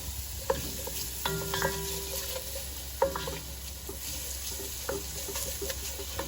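Onion and garlic sautéing in a pan for homemade beefaroni, a soft continuous sizzle broken by scattered clinks and scrapes of a utensil stirring.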